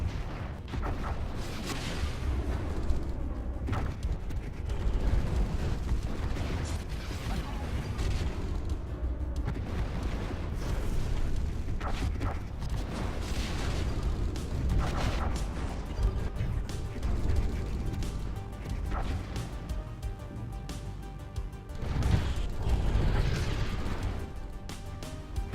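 Space battle in the strategy game Stellaris, with ships firing weapons: a continuous, rumbling barrage of booming shots and blasts layered over one another, medium loud, with no speech.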